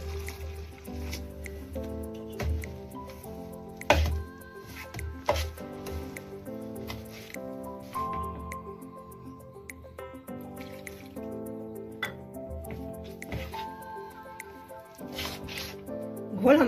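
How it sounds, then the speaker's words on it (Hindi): Milk is poured slowly into red velvet cake batter and stirred in. Soft, wet squelching and sloshing sounds repeat at an irregular pace close to the microphone, with light clinks of a spoon and a faint voice in the background. "धीरे धीरे दूध डालकर मिक्स करेंगे।"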